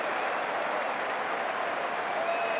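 Big stadium crowd cheering and applauding at the 2005 NatWest Series final between England and Australia, a dense, steady roar of clapping and cheers throughout, loud and sustained with no break.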